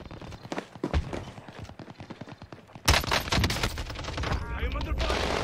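Rapid bursts of automatic gunfire in the video game Warzone, a dense rattling stream that grows louder and more intense partway through, with a voice talking over the shooting.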